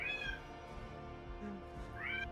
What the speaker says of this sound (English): I just heard Pocket Cat screaming.